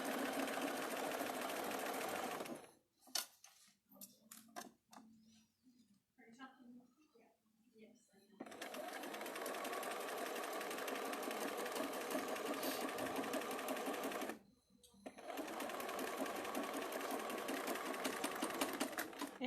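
A sewing machine stitches fabric with a steady, close whir that runs continuously, breaks off for a few seconds with scattered clicks, then resumes, stops briefly and runs again.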